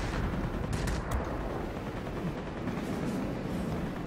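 Rapid aircraft gunfire in the World of Warplanes video game, fired from a Tier IX attacker-class fighter, as a dense continuous rattle that runs steadily for the whole stretch amid engine roar, with no talking.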